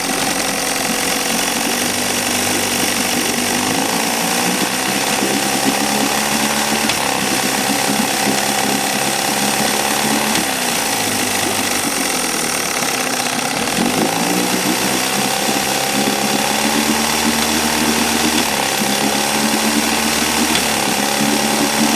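A 1964 Evinrude Big Twin 40 outboard motor runs steadily at close range with a loud, buzzing, rattling drone and slight pitch dips, and no talk is heard.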